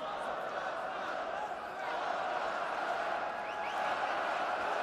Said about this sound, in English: the home crowd. I know that the Mankell is going to have to dig really, really deep here.